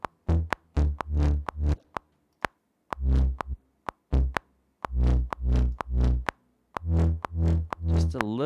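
A Serum synth patch with an added noise oscillator plays rhythmic, plucky bass notes in quick groups. A breathy, airy layer sits on top of the notes, and brief gaps and sharp clicks fall between the phrases.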